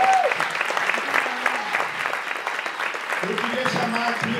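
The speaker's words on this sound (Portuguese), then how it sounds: "Salve de palmas!" Audience applause at a film screening and discussion session, many hands clapping steadily with scattered voices and brief calls mixed in throughout.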